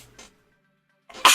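A single sharp sneeze at the end, close and loud, after a soft breathy intake and a brief pause.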